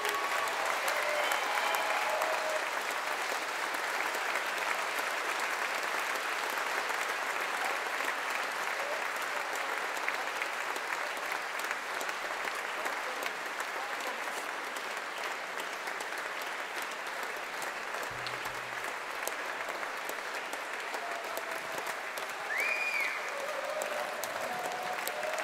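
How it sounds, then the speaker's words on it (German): Sustained applause from an audience at a concert honouring an event organiser, steady dense clapping filling the whole stretch at an even level, with faint voices underneath. "Und einen riesen Applaus."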